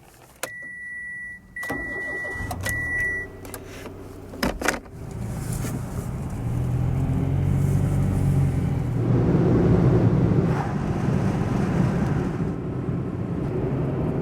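A Mitsubishi Mirage drives at about 7,000 feet near Telluride, its engine and road rumble building to a steady, fairly loud cabin drone after some early beeps and clicks.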